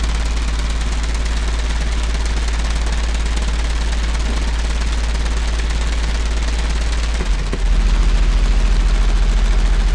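A 15-inch RF subwoofer pushes deep subsonic bass as a loud, constant low rumble with rattling buzz on top, briefly dipping near the end before a pulsing, throbbing bass resumes.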